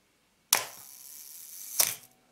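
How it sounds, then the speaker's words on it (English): A Canon F-1 film camera shutter fires once nearby, a sharp mechanical snap followed about a second later by a second clack as it closes, with quiet around it. "Then fire the shutter."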